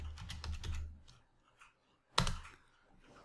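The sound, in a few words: typing on a computer keyboard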